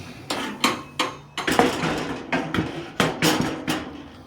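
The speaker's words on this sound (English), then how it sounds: "I'll put this grill pan right there" A Lodge cast-iron grill pan set down on an Old Smokey charcoal grill, a series of sharp metallic clanks and knocks, close and irregular, with short pauses between hits.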